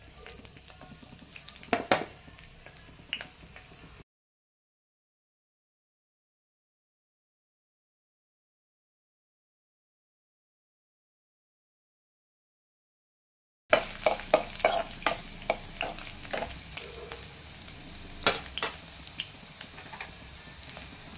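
Crushed garlic and green chilli frying in about one and a half spoons of oil in a kadhai, soft crackling and sputtering with sharp pops, broken by a long stretch of silence in the middle.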